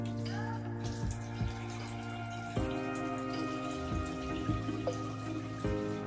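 Tap water running steadily over a part of a compact portable draft beer dispenser, with clinks and knocks of the piece handled under the stream.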